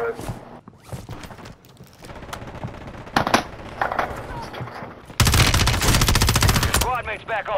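HAMR-9 submachine gun fire in Call of Duty Rebirth, with rapid automatic bursts and shots that build into a loud sustained stream near the end, while players talk over the gameplay.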